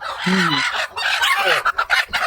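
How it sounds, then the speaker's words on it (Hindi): Hens on a poultry farm, some sitting on eggs, cluck and call close by in a busy, irregular chorus with overlapping squawks and murmurs. "ये देखो अंडे पे बैठे हुए हैं मुर्गियाँ"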